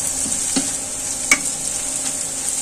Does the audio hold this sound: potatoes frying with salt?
yes